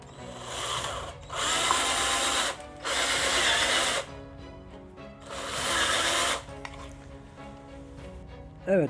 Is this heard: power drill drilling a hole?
yes